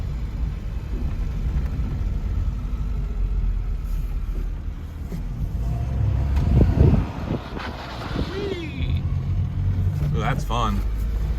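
A Smart Fortwo car engine starts and runs steadily after a coolant temperature sensor replacement, a low rumbling idle close by with a brief louder surge, while people talk over it.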